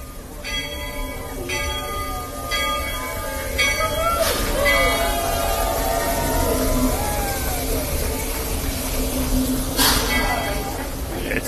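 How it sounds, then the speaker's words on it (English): The Magic Kingdom train runs on a chilly Christmas Eve with its bell clanging in repeated bursts, then rumbles and squeals steadily along the track, with people talking throughout. "It is the train."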